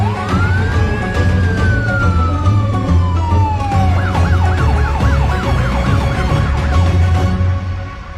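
A police car siren wails loudly and close by, with one long rising-and-falling sweep followed by rapid repeated yelps over a low engine rumble.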